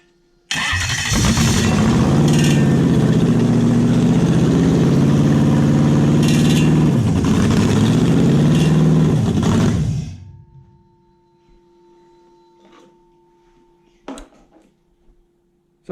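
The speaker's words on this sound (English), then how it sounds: "So mine is a working engine." A Lexus SC400 car engine cranks and catches, runs loudly with a couple of rising revs for about nine seconds, then shuts off, leaving faint clicks and a low hum.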